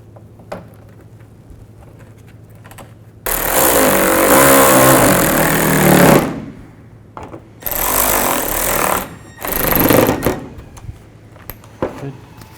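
A power tool drives the headlight bolts back in on a 2003-08 Toyota Matrix. It runs in three loud, close bursts, with quiet pauses and small clicks between them.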